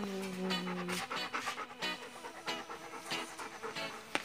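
A pet dog pants rapidly and steadily at close range, the quick breathy rhythm running throughout with no talk.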